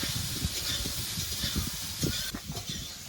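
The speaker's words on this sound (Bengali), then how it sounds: "নেড়ে চেড়ে ভালো করে ভেজে নেবো সয়াবিনটা" Soybean chunks frying in a pan with salt and turmeric, giving a loud, steady sizzle and hiss with soft stirring scrapes and bumps throughout, no voices.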